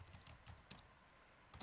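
Someone types a search into a website on a computer keyboard, with quick clusters of light, close key clicks, brief pauses, then a final burst of taps.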